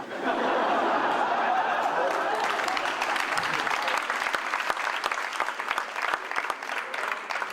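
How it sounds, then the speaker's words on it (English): Sustained audience applause at a 2011 Facing Tomorrow conference talk, loud and dense at first, then thinning into scattered individual claps with a few chuckles mixed in. "All of this applause was because you all know that I'm right."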